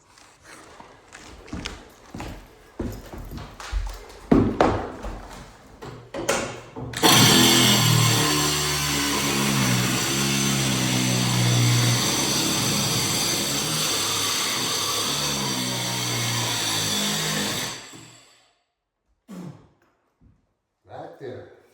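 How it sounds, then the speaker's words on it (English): An angle grinder cuts through floor material to fit a heat register, a loud continuous whine lasting about ten seconds after scattered knocks and handling thumps, then stopping abruptly. "Actually gonna get my angle grinder to cut right here"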